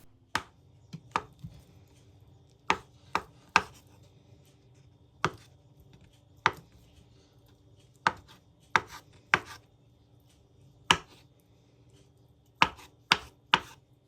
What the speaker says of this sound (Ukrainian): Беру 5 яєць, нарізаю кубиком, щоб було зручно їсти.